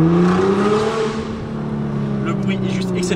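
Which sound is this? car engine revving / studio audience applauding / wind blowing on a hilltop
car engine revving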